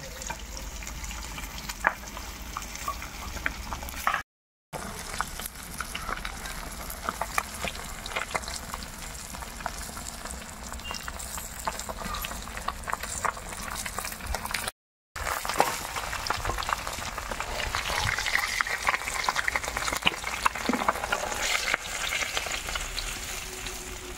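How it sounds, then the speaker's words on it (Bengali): Small sarputi fish frying in hot oil, a close, steady crackle and sizzle with sharp spluttering pops throughout, broken by two brief silent gaps and no talking. "মাছগুলো বোমের মতন ফুটছে।"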